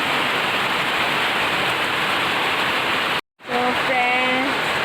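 Steady rain falls close by as a dense, even hiss that runs without a break, drops out briefly for a moment, and then returns along with a faint tonal whine.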